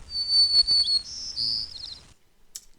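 A male songbird sings the Berkeley dialect of its song, clear and close: a long high whistle followed by a slightly varied whistled phrase and a short trilled ending, then a brief faint buzzy note, with no talking.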